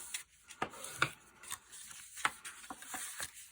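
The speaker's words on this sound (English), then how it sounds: "I'm going to go and burnish my score lines." Paper score lines on a treat holder are burnished with a tool, giving a quiet series of soft scraping rubs in short strokes, some sharper and brighter than others, close by with no talking.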